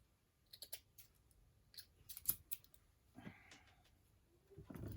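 Scissors trimming a paper collage at a craft table, giving a few scattered close snips and clicks spread across the moment, fairly quiet, with soft handling rustles and a louder rustle near the end.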